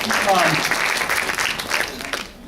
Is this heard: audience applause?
yes